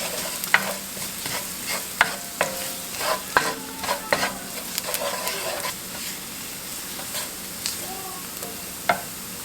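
Flour cooks with drained peas in a pan, giving a quiet sizzle broken by frequent sharp scrapes and taps of a spoon stirring close by, with no voices.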